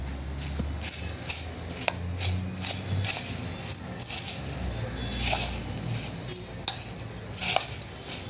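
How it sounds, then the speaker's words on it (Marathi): A spoon stirs sukha bhel, the dry puffed-rice snack sprinkled with chaat masala, in a bowl, giving repeated clinks and scrapes against the bowl in an uneven rhythm, close and moderately loud. "आता आपण हे सर्व मिश्रण मिक्स करून घ्यायचे।"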